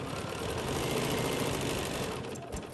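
A Bernina sewing machine with its stitch regulator runs free-motion quilting stitches, giving a loud, continuous, even mechanical whir close up, with no voices.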